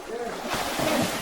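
Sea waves near Surigao wash in a steady broadband rush, blended with wind buffeting the microphone and people talking nearby.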